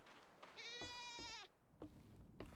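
A single wavering goat bleat from a video game rings out clearly, followed by a few soft clicks and taps in a quiet setting.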